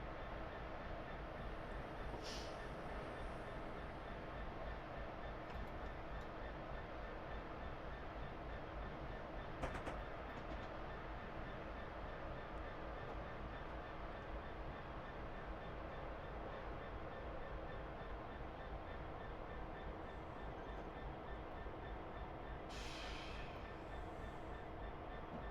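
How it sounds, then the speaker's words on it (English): Suburban Glasgow passenger train, service to Balloch, standing at a station platform: a steady low rumble of traction equipment and ventilation fills the scene throughout, with a couple of brief clicks and a soft hiss near the end, no voices. "There is a train at the platform here."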